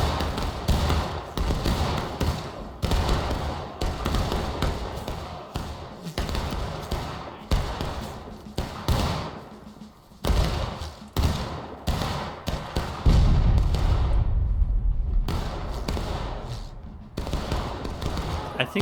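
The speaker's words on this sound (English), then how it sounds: "I think that Union cannon just criminally undershot" Union cannon firing canister in the Civil War game War of Rights: deep booms and thuds roll out over a running crackle of musket fire, with players talking throughout.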